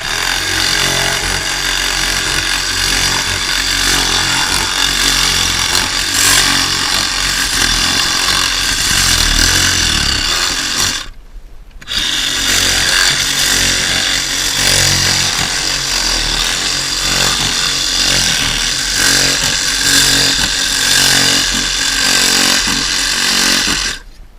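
A power tool cuts through windshield urethane on a 2013 Dodge Challenger, a loud, steady buzzing grind that drops out briefly midway and then resumes at full strength, with no voices.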